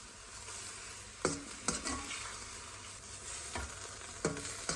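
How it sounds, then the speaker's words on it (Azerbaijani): Long thin strips of beef stir-frying over high heat in a lightly oiled pan for homemade doner, a steady close sizzle broken by several sharp scraping stir strokes, with no talk. "Əti əlavə edib gür odda qarışdırırıq."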